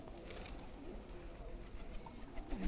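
Pigeons coo softly in a low, repeated murmur over steady background noise, with a brief higher chirp near the end; no one speaks.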